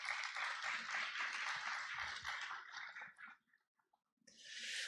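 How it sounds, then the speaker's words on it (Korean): Applause from guests at a launch ceremony for a mobile CT screening bus: faint, distant clapping that dies away, falls briefly silent, then picks up again. "큰 박수 부탁드리겠습니다"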